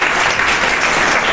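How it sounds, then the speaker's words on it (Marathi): An audience at a college event applauds to welcome a student, a dense burst of clapping that holds steady and fairly loud for the whole moment. "आपण त्यांचं सर्वांनी टाळ्या वाजवून स्वागत करायला पाहिजे"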